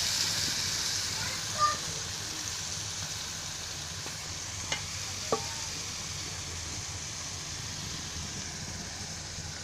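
Tempering for dal with hing, green masala and raw onion paste sizzles steadily in a pan, a continuous bright hiss with a few faint utensil clicks and no voices.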